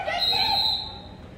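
A referee's whistle shrills at a girls' varsity basketball game in a gym, one sustained blast that fades out over about a second, with no talk over it.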